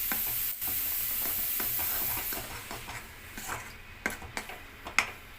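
Grated coconut fries in ghee and oil while being stirred for a sweet, giving a steady sizzle and hiss broken by irregular scraping and ticking strokes of the spoon against the pan.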